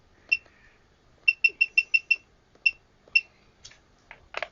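A Fluke Series 30/32 clamp multimeter beeps in a run of short, sharp electronic tones, one alone then a quick string of six and two more, close and clear, followed by faint clicks and handling noise.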